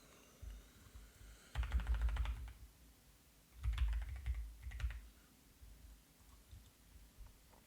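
Close typing on a computer keyboard in two bursts of rapid clattering keystrokes, each lasting about a second, separated by quiet pauses and ending with a few scattered taps, fairly faint with no talking.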